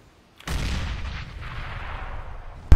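Grenade blast in Counter-Strike: Global Offensive: a sudden sharp detonation after a moment of quiet, then a loud, sustained rumbling decay, with a short thump at the very end.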